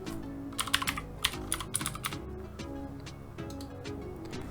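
Typing on a computer keyboard, a quick burst of close clicky keystrokes at first, then sparser, lighter taps over a low steady hum.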